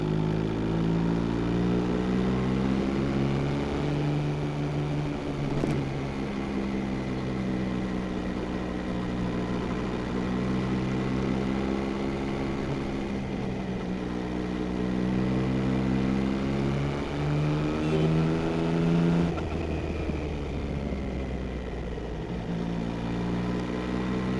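Yamaha XSR900 motorcycle engine droning steadily while riding, loud and close throughout, pitch rising and falling with throttle changes, with no talk over it.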